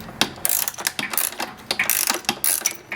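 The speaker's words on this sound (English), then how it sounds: "What you're going to do next is releasing 3 screws to take the moto out." Screws being loosened to remove the motor from an overlock sewing machine, heard as a close, rapid series of ratcheting clicks, likely from a ratchet driver, in an uneven rhythm throughout.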